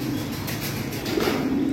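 Danish fancy pigeons coo softly and repeatedly in a loft, low throaty rolling calls overlapping close by with steady background noise.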